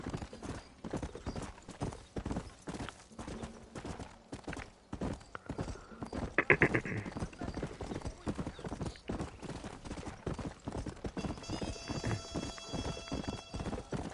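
Hooves clip-clop rhythmically through a video game in Red Dead Redemption during horsebreaking, with a horse whinnying midway and a short musical ringing near the end; a voice is briefly heard.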